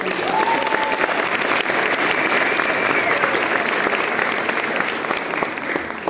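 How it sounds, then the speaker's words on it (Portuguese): Sustained applause from a lecture audience fills the space with dense, even clapping that holds steady throughout, loud and close, with faint voices mixed in beneath it. "Salve de palmas"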